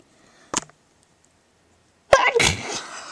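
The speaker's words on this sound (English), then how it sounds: "Sorry everyone, I sneezed." A person sneezes indoors: a brief sharp intake burst, a pause, then a loud, explosive sneeze with a trailing breathy tail, close to the microphone and with no talk over it.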